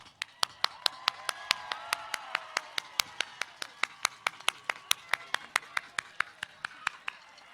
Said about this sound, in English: I want to give one last round of applause and congratulations to our